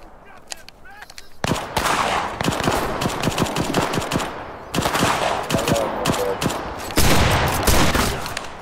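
Rapid bursts of automatic gunfire crackle in the Cuisine Royale video game, dense rattling volleys with brief pauses, loud and continuous, with a voice speaking at times.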